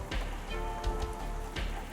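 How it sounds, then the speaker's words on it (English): Pouring rain drums steadily on a surface overhead in a sci-fi horror tabletop game scene, a dense continuous patter with a few heavier thuds and a faint tonal bed underneath. "And you just hear the pouring rain above your heads."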